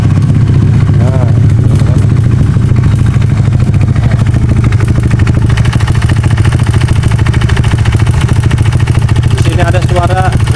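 A motorcycle engine that is short of oil, freshly restarted on used oil with the head cover fitted, idles loudly and steadily at close range with a fast rattling knock throughout, and a voice is heard over it.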